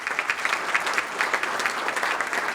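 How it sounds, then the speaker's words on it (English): A breakfast forum audience applauds steadily, dense clapping filling the room at even loudness from start to finish. "Give them a round of applause."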